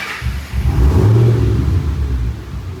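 A Roush 427R Mustang engine, running rich, turns over, catches and revs loudly up close, then settles into a steady rumbling idle.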